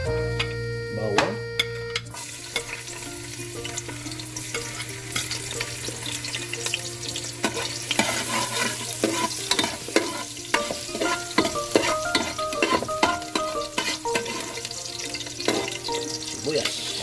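Garlic frying in hot oil in a pan, giving a loud, continuous sizzle with busy crackling and stirring clatter throughout, with a steady hum underneath.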